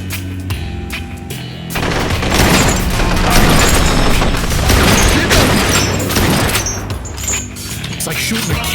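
Sustained automatic gunfire from a heavy weapon in the shooter video game Blue Estate, dense rapid bursts with booming impacts filling nearly the whole stretch, loud and close, with game voices mixed in.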